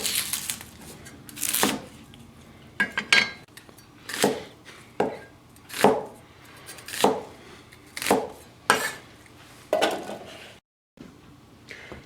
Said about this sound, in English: I'm just going to be doing a rough cut on the onion.